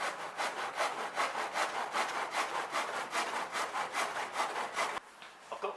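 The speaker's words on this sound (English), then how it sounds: "when we're cutting this part of the bumper, we're getting it at a slight angle" Hand saw cutting through the plastic front bumper of a VW Caddy 2K, a steady rhythm of rasping back-and-forth strokes at close range, stopping abruptly near the end.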